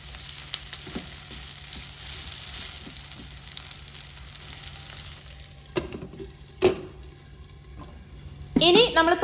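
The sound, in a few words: chicken frying in a covered non-stick pan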